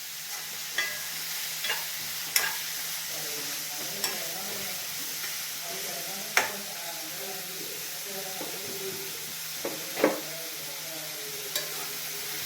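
Squid masala sautés in a pan with onions, a bright continuous sizzle under intermittent scraping strokes of a spoon, close up, with a few louder knocks against the pan.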